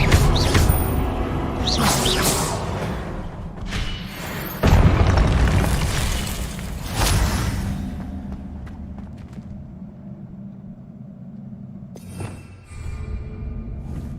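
An Expelliarmus spell is cast in the PS5 game Hogwarts Legacy, heard as several loud booming magical blasts with whooshing tails and rumbling decay between them, without any voices.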